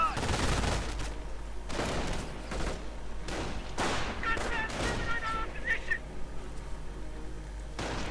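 In a real-time strategy game match, MG42 machine gun fire crackles in rapid bursts amid distant explosions and battle effects, heard under a commentator's steady talk.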